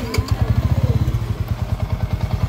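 Repaired motorcycle engine, refreshed with new valve seals and a clutch damper, idling close by with a loud, even, rapid thumping beat and a steady clattery tone, no knocking, without talk.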